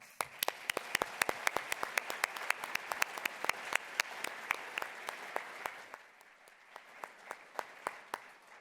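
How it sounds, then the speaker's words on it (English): Steady audience applause at a business hall of fame award ceremony, many hands clapping, loud and continuous, thinning out toward the end into a few scattered claps. "Let's give them one more round of applause."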